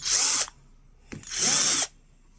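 Two loud bursts of a power drill whirring, each under half a second to about a second, separated by a short pause, as the drill is used in a hardness test on a nano-coated surface.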